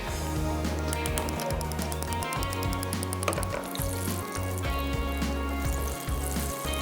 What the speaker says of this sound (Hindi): चंक्स भी हो गए जनाब हमारे फ्राई